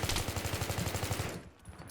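Rapid automatic gunfire in the shooter game Pole Bitwy 3 (Battlefield 3), a fast regular burst of shots at moderate level that trails off near the end.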